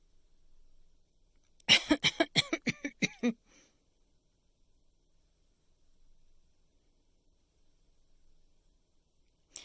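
An adult in a quiet office coughs in a quick run of about eight sharp, close coughs, with near silence before and after.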